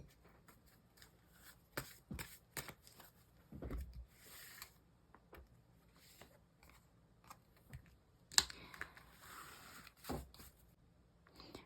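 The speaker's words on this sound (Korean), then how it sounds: "우리 2번님들을 위해서 천사 카드 뽑아볼게요" Tarot or angel cards being shuffled and drawn, with soft papery riffles, slaps and flicks at irregular intervals, close and fairly quiet, with no talking.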